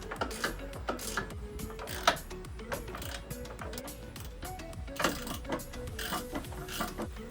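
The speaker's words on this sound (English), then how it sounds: "We're gonna grab our 1/2-inch socket and tighten down those 3 lower bolts" Ratchet with a 1/2-inch socket tightening bolts on rock rails fitted to a Jeep JK, a close run of quick, uneven clicking bursts with brief pauses between strokes and no talk.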